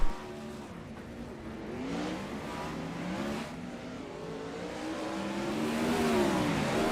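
Engines of 360 non-wing sprint cars in a virtual race at Fairbury American Legion Speedway roar steadily, with rising and falling pitch as cars accelerate and pass, at a fairly distant, even level.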